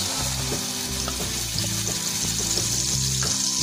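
Masala hits hot oil in a pan while spicy baby potatoes are cooked, a steady close frying sizzle backed by a soft, repeating low hum and light stirring clicks.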